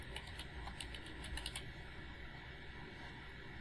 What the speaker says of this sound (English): if I go to search on my taskbar and type in Windows Sandbox